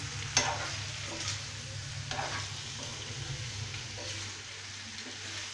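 Pasta stirred into spice masala in a pan over low heat, a soft continuous sizzle with repeated gentle stirring scrapes and one sharper knock near the start, fairly quiet and without talk.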